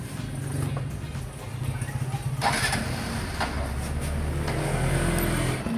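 A motorcycle engine is started and settles into a rough, steady idle, with a few sharp knocks and clatters over the running motor.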